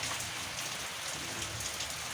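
Heavy rain pours down in a steady, even hiss of drops on surfaces, continuous throughout and fairly soft in level.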